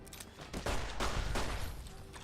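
Rapid gunfire from hip-firing a gun in Fallout: New Vegas, a dense burst of loud, booming shots running together for about two seconds.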